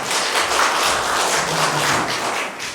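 An indoor audience at a literary book-launch and award ceremony in Boryeong claps warmly to welcome a speaker, a dense, steady burst of applause filling the hall without pause.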